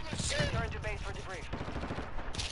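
Rapid bursts of video game gunfire crackle under excited, overlapping speech during a shootout where a player is hit through a shield.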